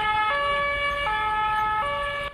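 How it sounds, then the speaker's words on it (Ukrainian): An ambulance siren near the front line wails in a steady two-tone pattern, switching pitch roughly every three-quarters of a second, loud and close over a faint background rumble, with no one speaking. "Знову швидка і знову поранені."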